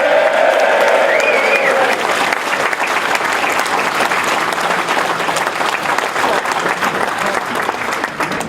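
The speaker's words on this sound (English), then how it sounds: "let's just give him a round of applause" Loud, sustained applause fills a Brexit Party rally crowd in Huddersfield, dense and continuous throughout, with a voice briefly heard over it at the start.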